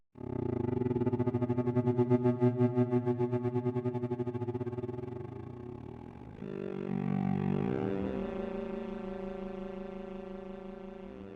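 A cello through a ring modulator and fuzz: a sustained, heavily distorted bowed-string tone with a metallic, warbling ring, holding steady and then shifting into a gliding, eerie texture partway through.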